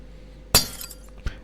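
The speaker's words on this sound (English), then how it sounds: "And then smash this glass." Glass smashed in the video game Garten of Banban 7: one sharp, loud shatter with a short tinkling tail, then a smaller clink about a second later, with no talk.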